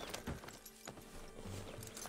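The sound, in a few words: horse hooves in video game Red Dead Redemption 2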